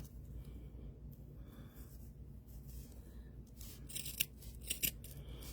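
Scissors cut through doll hair, giving a few sharp close snips near the end after a quiet stretch of faint handling over low background hum.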